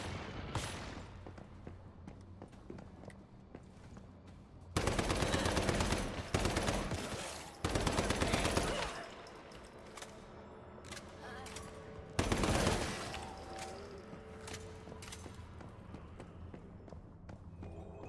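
Gunfire aimed at the player in the survival shooter Once Human: several sharp, loud bursts of rapid shots break out in clusters over a quieter background, with pauses between volleys.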